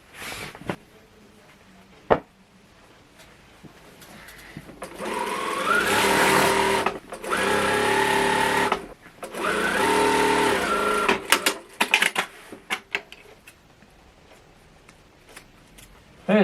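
A sewing machine stitches a zipper onto folded fabric for a floor cushion, running in three bursts of rapid mechanical whirring separated by pauses, close up, with fabric handling and small clicks in between and no talking.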